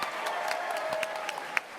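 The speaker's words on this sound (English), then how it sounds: "keep your applause going" Steady applause from a San Diego Comic-Con panel crowd, dense clapping at an even level with a few sharper claps standing out.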